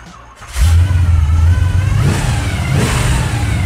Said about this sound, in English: So you can hear the supercharger.